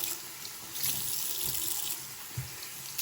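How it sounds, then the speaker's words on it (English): Tap water runs steadily into a sink while soap is rinsed away, with faint splashes and clunks in the basin under a constant hiss, fairly quiet and close. "Rinse all the soap and stuff."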